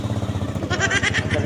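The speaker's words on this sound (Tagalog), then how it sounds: "Aalis yung isang tricycle o." A motorcycle taxi tricycle pulls away nearby, its small engine putting out a steady, throbbing putter that rises briefly as it drives off.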